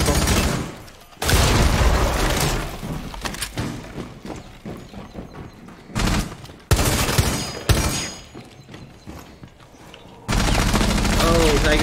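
Rapid bursts of gunfire rattle through a Rainbow Six Siege match, with dense automatic fire coming in loud waves separated by brief lulls, close and harsh, while players talk over some of it.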